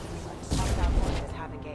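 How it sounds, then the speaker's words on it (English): Explosions and gunfire from the video game Mass Effect 2, a dense burst of booms and shots that swells loud mid-clip and then trails off into a continuing rumble. "A lot of explosions."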